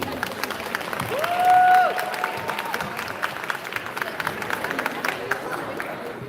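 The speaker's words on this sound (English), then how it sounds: "Let's give a round of applause for both the teams." A crowd at a FIRST Tech Challenge robotics qualification match applauds both teams, steady clapping and chatter with a short swell and a brief tonal sound early on.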